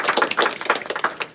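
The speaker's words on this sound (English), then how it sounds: "let's first give her a reward in the form of another round of applause" A small audience applauds a volunteer during a card magic lesson, with dense overlapping claps that stay fairly even for the whole moment and carry no talk.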